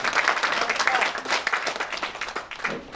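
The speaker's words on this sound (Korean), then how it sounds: "다시 한번 감사의 박수 부탁드리겠습니다" Audience applause at a Korean-Japanese friendship song contest ceremony, a burst of steady clapping from a crowd that tapers off over a few seconds.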